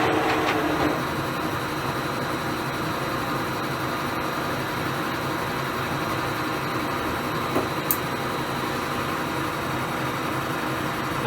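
A metal lathe being commissioned runs at 150 RPM, giving a steady mechanical drone and hum with a faint rhythmic rumble, continuous and moderately loud, with a small click near the end.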